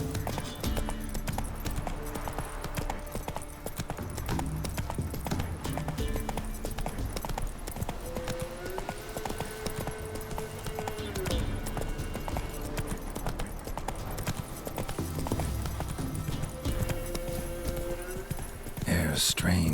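Geralt's horse Roach gallops with rapid rhythmic hoofbeats in The Witcher 3, a steady clip-clop running the whole way under game music and occasional spoken dialogue.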